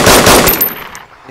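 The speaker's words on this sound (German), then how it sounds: "Schüsse? Ja, ich war das." A quick rapid burst of gunfire from the video game DayZ Standalone, loud and close, then fading into a brief quiet tail with no talking.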